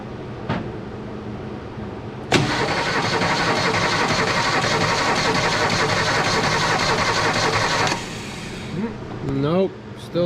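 A 1968 Ford Falcon engine, abandoned for years, cranks steadily for several seconds with a loud, rhythmic churning but does not catch, then falls quiet, followed by brief squeaky sounds.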